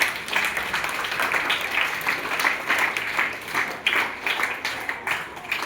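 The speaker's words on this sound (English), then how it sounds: "a big round of applause for all the winners" A school crowd gives loud, sustained applause for inter-house competition winners, dense clapping rolling on evenly with small swells for about six seconds and no talk over it.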